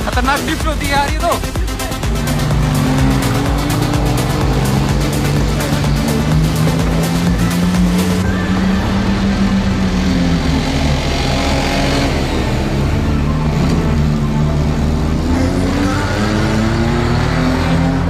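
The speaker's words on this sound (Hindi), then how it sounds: "खतरनाक ड्रिफ्ट होती है यार ये तो।" A car drifting, its engine revving hard and rising and falling in pitch while tires squeal, loud and close throughout, with people talking over the noise inside the vehicle.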